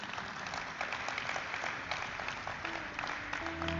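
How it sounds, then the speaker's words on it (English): Audience applause fills a ceremony hall marking a company's stock exchange listing, steady dense clapping from a sizable crowd throughout, with a faint tone entering near the end. "Can we have a huge round of applause for them?"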